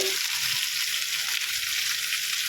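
Fish and potato pieces fry in hot oil, giving a steady, loud, dense sizzle with continuous crackling and popping throughout, close up with no voices.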